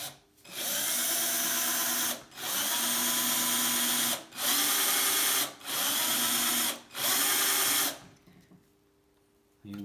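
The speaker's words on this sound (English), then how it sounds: "The key when you do this is not to drill too deep, not to get the part hot or the drill bit hot." A power drill bores into a bicycle part in five loud, steady bursts of about a second and a half each, separated by brief pauses, with no talking.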